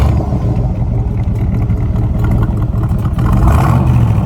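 A 1965 Corvette Sting Ray convertible with an L79 engine and five-speed rumbles steadily at close range, a deep continuous throb that swells slightly louder near the end, with no voices.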